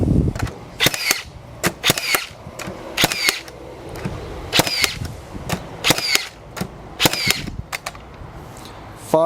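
Makita 18V cordless framing nailer driving nails, a run of about ten sharp, loud cracks each followed by a quick metallic snap, spaced roughly every second close by, with no talking.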